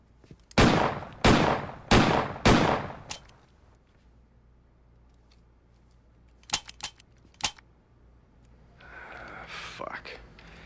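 Four loud, evenly spaced gunshots from a handgun ring out, then quieter clicks and small sharp sounds follow once the gun runs dry, and a faint rising voice or whine comes at the end.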